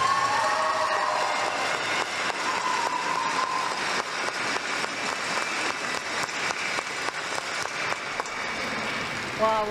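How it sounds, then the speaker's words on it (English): Sustained crowd applause for medalists at the B.C. women's curling championships, dense steady clapping filling an arena for nearly ten seconds, with a voice speaking over it. "Please join us in one last round of applause for all these medalists standing in front of you"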